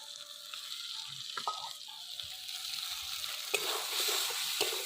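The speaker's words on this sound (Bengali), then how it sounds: "এবার আর একটু কষায় নিয়ে আলু আর সিম দিয়ে দেবো।" Potatoes and flat beans sizzle and fry in a hot wok during a village-style Bengali dish, a steady close frying hiss with the scrape and knock of a spatula stirring now and then.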